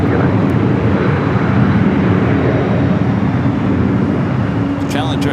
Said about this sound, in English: Challenger coming in from Van Nuys, just up the 405 freeway.